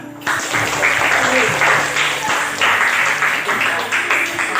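A classroom group claps in a steady burst of applause lasting several seconds, loud and close, starting abruptly after a moment of quiet.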